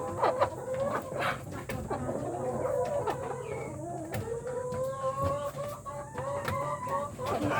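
Rooster crowing inside a poultry breeder cage, the crow rising and wavering over steady clucking and chatter from hens, with a constant low farm hum underneath.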